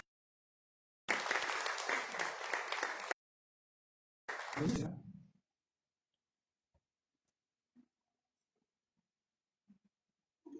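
A church congregation applauds during a Sunday evening service: a loud burst of clapping for about two seconds, a shorter second burst, then near silence with a few faint clicks.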